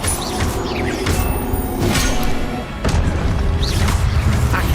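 Expelliarmus spell cast in the Hogwarts Legacy video game, a dense, loud blend of magical whooshes, booms and crashing impacts over a rumbling battle backdrop, with a brief dip before the effects surge again.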